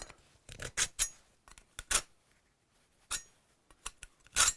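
Metal rasps in short scraping strokes while an old garden trowel is sharpened, shaving off metal. About eight close, bursty scrapes come in uneven rhythm with quiet gaps between them, and no voices.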